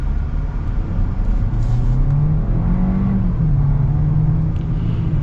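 A 2025 Hyundai Kona SUV accelerating, its engine rising through a steady droning rumble with a shifting pitch as turbo lag eases, heard loud and continuous from inside the cabin with no talking.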